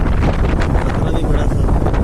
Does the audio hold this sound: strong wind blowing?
yes